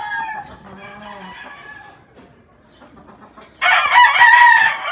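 A rooster on a farm crows loudly and close by, with a long harmonic call at the start, a brief lull, and then a second, louder burst of crowing near the end.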